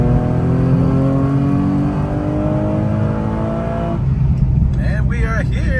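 A Nissan 370Z accelerates with its engine revving in a steady, fairly loud drone heard from inside, the pitch rising before it settles into a lower rumble; a brief whir of wind and road noise follows toward the end.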